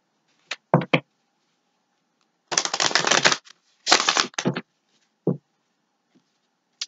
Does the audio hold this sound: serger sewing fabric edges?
no